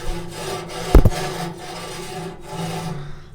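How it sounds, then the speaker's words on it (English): A metal tool scrapes ash through the grate of a Shirley Fabrication 24x36 charcoal grill, a close, continuous rasping rub with one sharp clank near the start, no talking. "That'll push all the ash through the grate and down to the ash pan."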